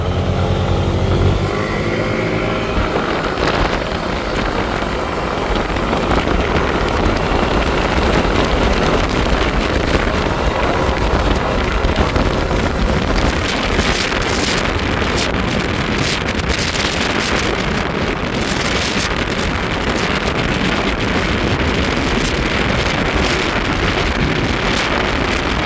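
An East Ride 175 scooter and a Yamaha Aerox 155 race outdoors, their engines a loud continuous drone buried under heavy rushing wind noise for the whole stretch.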